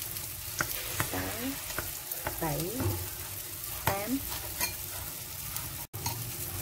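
Rice vermicelli noodles for vegetarian stir-fried noodles are tossed in a pan. A steady close sizzle runs under repeated scraping stirs, with a voice speaking softly now and then.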